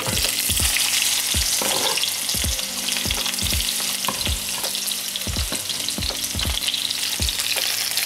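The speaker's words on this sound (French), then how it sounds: "Ensuite, on va mettre l'oignon." Onion hits hot oil that was first used to fry basil and sizzles loudly and continuously. Regular low thumps and scrapes from stirring recur roughly every half second, and a faint hum runs underneath.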